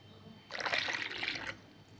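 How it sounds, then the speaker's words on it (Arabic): Hot water poured into a bowl for camembert pizza dough, a steady splashing pour lasting about a second, close and fairly loud over a quiet room. "هنا نزيد الماء السخون"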